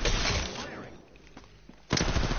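Rapid automatic gunfire in a video game: a loud, continuous burst, then a short lull with a few scattered shots, and a fresh heavy burst at the end.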